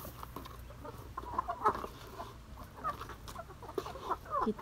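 Clucking from KUB laying hens, a native Indonesian village chicken breed, scattered soft calls and short bursts at moderate distance over a steady farmyard background, no talk.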